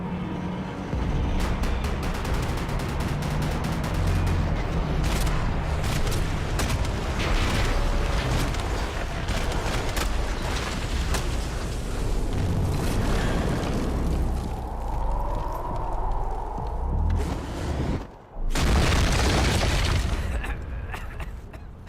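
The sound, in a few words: gunfire and explosions in the video game Max Payne 3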